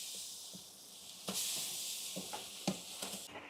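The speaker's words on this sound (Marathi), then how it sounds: "कांदा लाल झाल्याच्या नंतर आपण याच्यामध्ये अद्रक लसूणची पेस्ट टाकतोय" Ginger garlic paste sizzles in a pan of onions fried until red for biryani, a steady hiss running throughout with a few short stirring clatters and scrapes.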